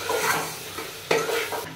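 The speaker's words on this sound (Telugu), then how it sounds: "వేసి కలియబెట్టుకుందాము" Spoon stirring tamarind into fried dried brinjal in a pan for an old-style sour curry: close scraping strokes with a sharper clatter midway, over a low sizzle.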